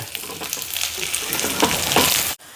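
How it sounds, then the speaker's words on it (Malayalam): Mustard seeds, shallots, curry leaves and dried chillies crackle and sizzle loudly in hot oil for a tempering, a dense close-up frying hiss with stirring, cutting off sharply near the end. "കുറച്ച് കടുക് ഇട്ട് കൊടുക്കാം. കുറച്ച് ചെറിയുള്ളിയൊക്കെ ഒന്ന് മൂത്ത് വരുമ്പോൾ കറിവേപ്പില, വറ്റൽമുളക്,"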